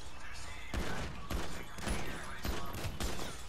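Gunfire inside a store in Grand Theft Auto V, a rapid burst of about half a dozen loud close shots with crashing impacts over a noisy background.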